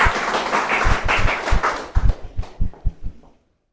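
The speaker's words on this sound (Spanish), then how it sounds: "un fuerte aplauso para Janet" Short burst of audience applause at a public management talk, close, loud clapping that thins to a few scattered claps before ending.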